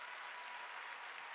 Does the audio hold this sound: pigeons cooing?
no